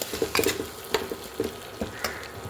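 Ginger and onion fry in a pan with ground coriander and cumin for a singara filling, giving a soft steady sizzle broken by scraping stirs and light clinks of a spoon against the pan, close and alone.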